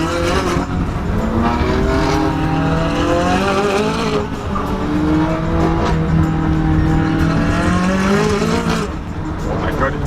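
A McLaren 570S Novitec sports car driven hard, its engine roaring continuously with rising and falling revs through gear changes, loud and close, with a voice speaking over it at moments.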